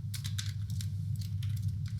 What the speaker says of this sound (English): type the command